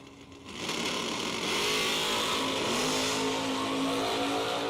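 A Camaro and a 1966 Chevy Nova II launch and race at a doorslammer drag racing event, engines building to a loud, sustained roar that fills the whole stretch with dense mechanical noise.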